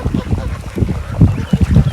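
Ducks and ducklings quack and honk around a farmyard, a few close calls bunching toward the end over soft background noise.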